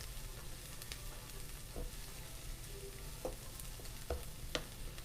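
Onions brown in a pan with a soft, steady sizzle and occasional faint clicks and taps, quiet and close, with no talking.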